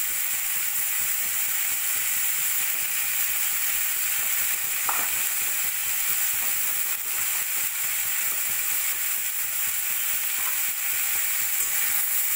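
Potatoes and eggplant fry in a spice masala with a constant, even sizzle throughout, broken by a couple of faint stirring knocks, no voices.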